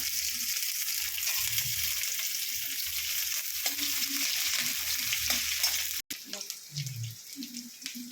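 Chopped onion hits hot oil already seasoned with cumin, bay leaf, dried chilli and garam masala, giving a steady, loud sizzle with stirring scrapes throughout and a brief cut near the end.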